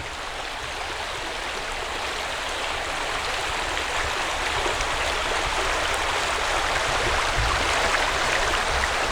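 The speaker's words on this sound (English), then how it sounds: "This is the River Esk" The River Esk in the Esk Valley near Grosmont flows past with a steady, even broadband rush of running water, close and unbroken.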